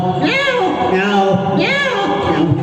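A person imitates a cat, giving two drawn-out, rising-then-falling meows one after the other, close and clear.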